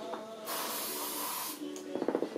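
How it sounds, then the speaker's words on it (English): Silicone release spray hissing from an aerosol can into a candle mold, one sustained burst of about a second, close and loud, followed by softer handling sounds. "you're going to get your silicone spray release. And so you're just going to spray it in here."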